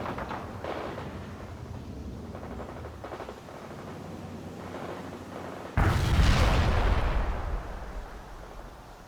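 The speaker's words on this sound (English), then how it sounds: "Marking the target. Fire artillery." Artillery shells exploding in the World in Conflict strategy game: low rumbling battle noise, then a loud, close boom with a long, decaying roar that fills the rest of the stretch.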